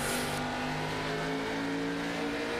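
NASCAR-style race car engines in a sim racing game roar continuously with high, sustained revving tones. Several cars drone together at a constant loud level with no talk heard over them.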